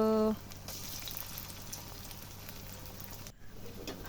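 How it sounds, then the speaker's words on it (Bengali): Lentil fritters sizzle steadily in hot oil, a continuous close frying hiss that follows a short musical tone. "এই যে এক এক করে ডালের বড়াগুলো ভেজে নেব।"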